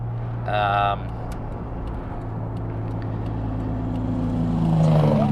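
A Toyota Celica GT4 car engine drones steadily nearby, then rises in pitch as it shifts into second gear near the end, with a brief voice speaking early on.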